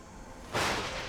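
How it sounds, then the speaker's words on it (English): A lightning spell effect in the Enderal video game, a sudden crackling whoosh that starts midway and holds as a broad, loud hiss. "Okay, it's a lightning effect."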